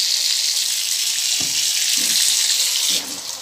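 Water runs steadily from a tap for a shower, a constant loud hiss with a few soft thumps before the flow lessens near the end.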